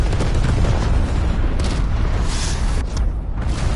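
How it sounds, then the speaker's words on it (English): A cruise missile blast in Call of Duty Cold War multiplayer, a loud, sustained rumbling boom that fills the whole moment with dense low roar and debris noise. "Oh, the cruise missile can hit C, it turns out."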